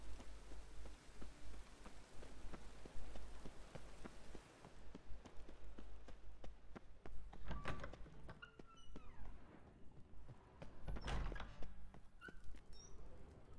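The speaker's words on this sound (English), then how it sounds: "Da, naravno da kiša pada, šta si očekivao?" Rain falling in The Witcher 3: Wild Hunt, a steady broadband hiss of drops on surfaces with scattered soft thuds and game ambience, moderately quiet with no talk.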